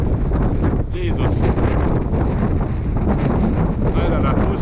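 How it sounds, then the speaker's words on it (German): Strong wind at Pali Lookout roaring across the microphone in a loud, constant buffeting rush, with brief gusty surges throughout. "Sehr windig, weil der Wind von unten hier nach oben schießt."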